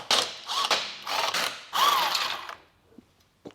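A ratchet turns in a few quick clicking bursts, loosening 16mm bolts on the cross brace of a BMW 335i, close and fairly quiet, with pauses between runs and a soft thump at the end.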